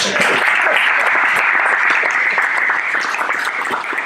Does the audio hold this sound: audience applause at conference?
yes